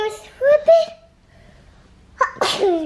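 A child sneezing, with two quick sharp sneezes near the start followed by a brief pause and then a louder, wetter sneeze, close and clear with no other talk.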